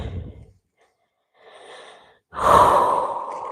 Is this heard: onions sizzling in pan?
no